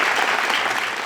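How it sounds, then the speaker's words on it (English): Applause sound effect: a dense burst of clapping from a crowd, loud and continuous for about a second. "We'll pause for applause."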